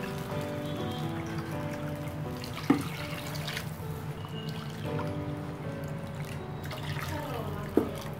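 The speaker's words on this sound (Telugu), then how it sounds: "ఈ విధంగా 3 కప్పుల వాటర్ని వేసుకుందాము." Three cups of water are poured into a cooking pan for semolina upma, giving a steady trickling splash with two brief clinks against the pan in a quiet kitchen.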